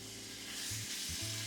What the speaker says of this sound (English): Okay, so now we're going to add our steak, again with about a tablespoon of olive oil.